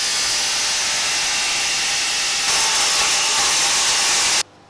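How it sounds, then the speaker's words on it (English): A table saw cuts a small metal part for a 1964 Dana Perfect Circle cruise control, a loud steady high-pitched whine that intensifies mid-cut and then stops abruptly. "I'm going to have to use the table saw for that."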